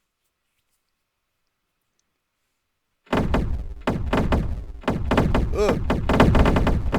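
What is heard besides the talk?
enemy AI firing weapons in indie video game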